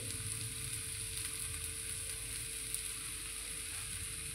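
Paneer bhurji with turmeric, chili powder and salt being mixed in a hot pan: a steady, continuous sizzle and frying hiss throughout, close and even, with no voices.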